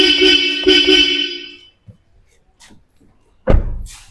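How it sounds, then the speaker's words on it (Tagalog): Bosch Europa horn fitted to a Toyota Innova Zenix, two loud close honks, one long and one shorter, followed by quiet handling noise and a sharp thud. "Ngayon naman yung Bosch Europa horn."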